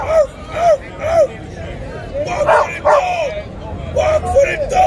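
A pit bull barks in a series of loud, close, rhythmic bow-wows with a few yips, amid crowd babble and people talking at a Brooklyn gathering.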